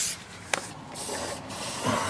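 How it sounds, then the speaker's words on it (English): An aerosol can of silicone spray hisses in a long, continuous spray close by, with a couple of sharp clicks, then a fresh burst near the end. "Here's the silicone spray."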